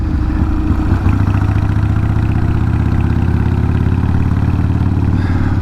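Motorcycle with a 1200 engine swap running while being ridden, a steady low droning engine rumble with clattering mechanical texture, close and continuous with no talking.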